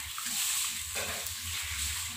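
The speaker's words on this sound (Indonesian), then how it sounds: "ini kita aduk semua nih, kita aduk sampai dia benar-benar matang." Tofu and shrimp in Padang sauce stirred in a pan, a soft continuous sizzle with light scraping, close and without talk.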